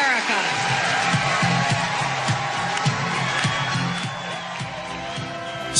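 An enthusiastic crowd cheers for Senator Clinton at a rally, a dense steady roar of many voices with scattered whoops and claps, sustained and loud throughout.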